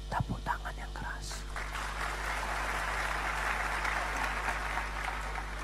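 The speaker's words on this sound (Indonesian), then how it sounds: "Tepuk tangan yang keras" A church congregation breaks into loud applause during a pastor's sermon, a few sharp claps at first and then a sustained, even ovation. Faint murmuring sits beneath it.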